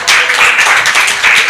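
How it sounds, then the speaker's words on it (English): Audience at a conference opening ceremony applauding, a brief dense wash of clapping, loud and sustained for about a second and a half. "Let's give my vice chair a warm round of applause."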